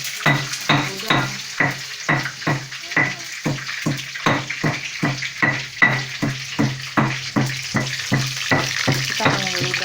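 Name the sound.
stir-frying shrimp sambal in oil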